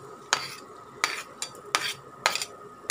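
Onions and green chillies fry in oil while a utensil scrapes the pan in a regular rhythm of about five sharp strokes over a low background sizzle.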